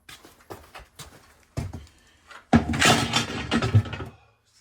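A sudden loud thunder crash rolls in after a few soft knocks, sustaining a broad rumbling roar for about a second and a half before fading to quiet.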